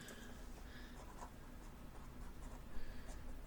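Pen scratching on paper while working through a chi-squared statistics problem, a soft continuous scribbling close to the microphone with no talk over it.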